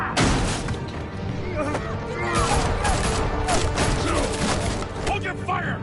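Rapid gunfire aimed at Batman in Batman: The Telltale Series, with dense bursts of shots, crashes and impacts filling the scene throughout, while people's voices talk and shout over the din.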